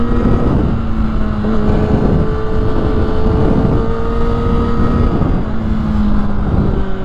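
A 2020 Kawasaki ZX6R rides on the track at Clark International Speedway, its engine a loud, steady drone with gear-shift changes in pitch, mixed with heavy rushing wind buffeting the microphone and no speech.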